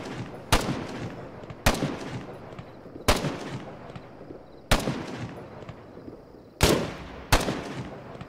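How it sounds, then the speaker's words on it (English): G3 battle rifle fire in the military shooter Arma 3, six sharp, loud single shots spaced irregularly about a second apart, each with a short echoing tail, no voices. "the G3 feels nice to shoot"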